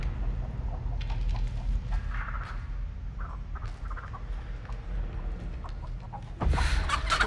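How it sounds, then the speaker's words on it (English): A chicken in the Texas Chain Saw Massacre video game clucks in scattered bursts over a low rumbling game ambience, ending with a sudden louder noise. "Oh shit, Nugget, you fucking burnt chicken, bitch."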